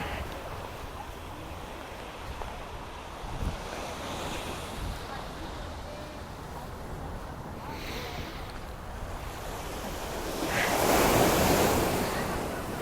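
Ocean waves at Dan Blocker Beach wash in with a continuous roar and wind buffeting the microphone, building into a louder surge near the end.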